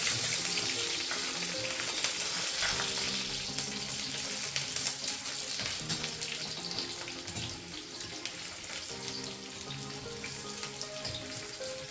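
Coconut, garlic and ginger sizzle with onion in a hot pan, a steady loud frying hiss with occasional stirring scrapes throughout.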